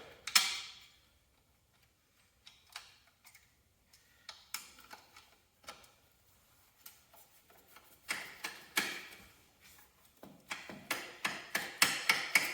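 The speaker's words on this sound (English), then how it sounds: "Now on the front, I'm just going to use my ratchet wrench." A ratchet wrench tightens the front bolts on a Cub Cadet 782 diesel tractor, making quiet, close clicking runs in short irregular bursts that quicken into rapid ticking strokes toward the end.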